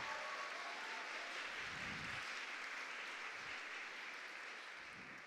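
Faint, distant applause from an audience at a regional oratory contest in Herrera province, a steady wash of many hands clapping far off, fading slightly toward the end.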